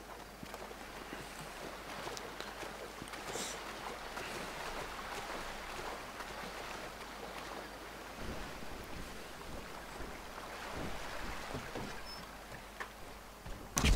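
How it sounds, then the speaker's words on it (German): A submarine glides underwater in the video game Grand Theft Auto V, giving a steady wash of water and surf-like rushing with a faint low rumble beneath, even and moderately quiet with no talking. "Wir haben endlich das U-Boot gefunden."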